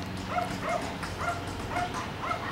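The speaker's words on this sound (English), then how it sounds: "She hears the neighbor's dogs barking right now." Neighbor's dogs bark repeatedly in the distance, several faint yips spaced in an uneven rhythm over a low background hum.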